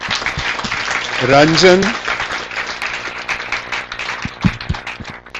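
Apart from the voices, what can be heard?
round of applause at conference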